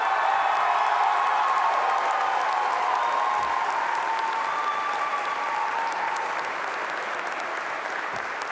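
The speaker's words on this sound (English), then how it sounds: "give your teachers one last round of applause." At a 2018 high school graduation ceremony, a large crowd gives the teachers and staff a dense, loud applause, a sustained wash of clapping that holds steady throughout.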